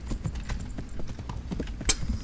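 Horse hooves clip-clop in a quick, steady galloping rhythm in the game Kingdom Come: Deliverance, close and moderately loud, with a brief sharp click near the end.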